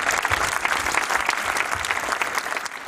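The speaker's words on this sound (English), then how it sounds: "Let's acknowledge them with a round of applause" An audience at a film and cultural festival evening claps in dense, sustained applause, loud and continuous for the whole stretch.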